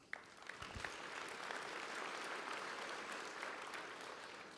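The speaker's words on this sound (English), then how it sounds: "Give him a hand clap" A conference general session audience in Las Vegas applauds steadily and fairly quietly from a distance, opening with a few sharp claps and settling into an even wash of clapping.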